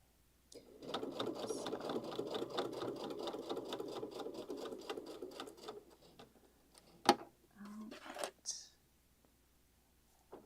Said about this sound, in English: You just have to be careful that your zigzag stitch isn't going to then show